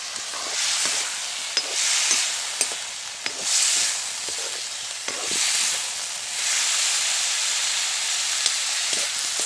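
A pot of leafy greens boils, bubbling and hissing steadily, with soft clinks and small pops scattered through the simmering, close and without any voices.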